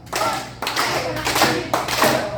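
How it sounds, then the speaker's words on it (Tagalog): Guests at a christening party in a fast-food restaurant clap in unison, four loud group bursts landing in an even rhythm close by. "Palakpak po tayo sabay-sabay. 1, 2, 3, go!"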